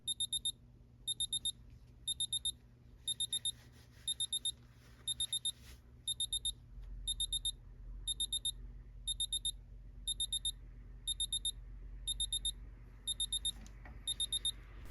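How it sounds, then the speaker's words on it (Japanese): Quick bursts of high electronic beeping from a Tissot PRX Digital watch alarm, repeating in a steady rhythm over a quiet background hum. "設定した時刻になるとアラーム音が30秒間になります"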